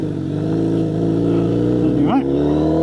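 Kawasaki Z900RS motorcycle fitted with a Wirus Win slip-on exhaust and its baffle, idling with a steady, loud, rumbling note and a short blip of revs near the end.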